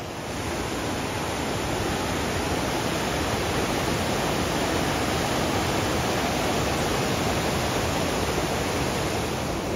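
Fast-flowing river water rushing at a creek crossing on the Pacific Crest Trail, a loud, close, unbroken roar that fills the whole recording with no voices.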